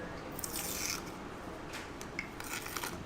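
Close, quiet rasping and scraping as stiff resin drips are peeled off the back of a coaster, in a few short bursts.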